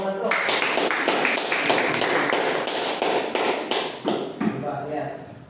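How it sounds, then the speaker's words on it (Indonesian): Classroom group applauding a student cooking team after tasting salted eggs, a dense steady patter of many hands clapping that thins and breaks up toward the end, with some voices mixed in. "Tepuk tangan buat kelompok 1."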